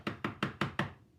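Five sharp, evenly spaced knocks on a door, close and clear, followed by silence.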